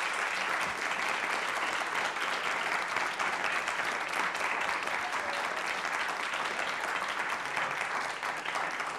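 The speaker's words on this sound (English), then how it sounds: "If you can join me in a round of applause for each member of our panel" Sustained audience applause for a panel of orchestra musicians at a discussion event, steady dense clapping throughout with no break, loud and close.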